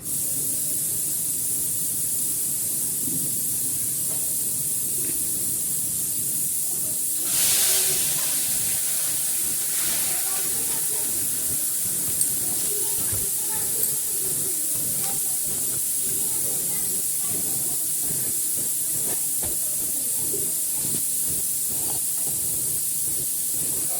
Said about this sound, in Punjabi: ਇਹ ਜੀਰਾ ਪਾ ਕੇ ਲਾਣੇ ਤੜਕਾ ਆਪਾਂ